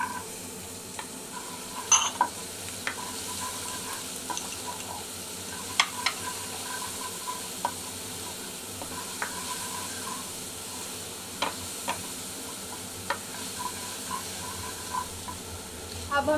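Chili and green peas sautéing in a pan for paneer samosa filling, a steady low sizzle with occasional soft clicks and stirring taps throughout, no talking.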